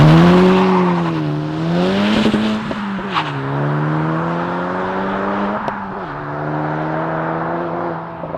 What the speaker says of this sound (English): Next up is the turbo 4-cylinder of the Integra Type S.